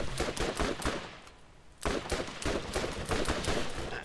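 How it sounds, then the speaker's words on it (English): A submachine gun in the video game Borderlands fires loud, rapid bursts, two long strings of shots broken by a short pause. "I don't think there could possibly be a more inaccurate weapon than this fucking submachine gun that I'm using."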